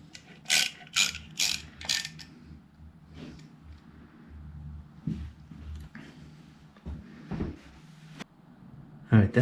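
A ratchet snugs down a wire fastener on a vape charging and ignition system for an XS1B motorcycle. Four quick, sharp ratcheting bursts come close together, then scattered clicks and knocks follow amid quieter handling sounds.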